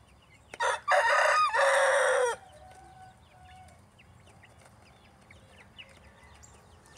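A chicken clucks briefly, then a rooster crows loudly twice up close, followed by quiet outdoor background with faint distant bird calls.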